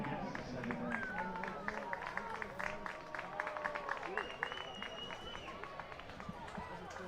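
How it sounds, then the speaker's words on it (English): Sideline crowd at a high school football game, Broken Arrow at Enid, with scattered clapping and cheering under a steady crowd murmur, some whistles and shouts near the middle, fairly distant. "Some applause taking place over here on the near side."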